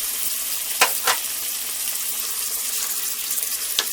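Garlic sizzling in a pot of vegetable and rice soup as it cooks, a steady hiss of frying with a few sharp pops and a clink near the start and end, and no talk.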